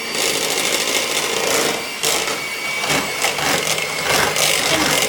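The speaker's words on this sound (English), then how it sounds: "so turn the whisk off" Electric whisk running continuously while mixing a thick strawberry cheesecake filling, a loud, steady buzzing whir with slight rattling fluctuations throughout.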